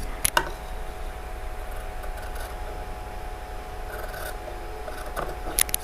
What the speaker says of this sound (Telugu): ఈ అంచు పూర్తిగా ఇక్కడి వరకు కటింగ్ చేసుకొని తర్వాత రిమూవ్ చేసుకోవాలి